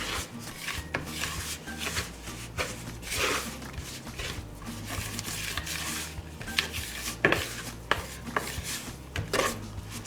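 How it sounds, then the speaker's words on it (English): Gluten-free bagel dough ingredients, including flour and xanthan gum, being mixed in a bowl: continuous close scraping and stirring with rhythmic knocks and rubbing against the bowl. "now that we have all the ingredients in, we're gonna give it a good mix"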